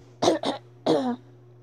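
Two quick coughs followed by a third, longer harsh cough, close and loud over a low steady hum.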